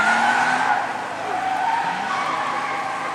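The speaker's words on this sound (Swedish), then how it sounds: "Bra varv på motorn." At a drifting competition, a drift car holds a high, steady engine rev as its tires skid and squeal continuously, loud and close, with a sustained howl that wavers slightly in pitch.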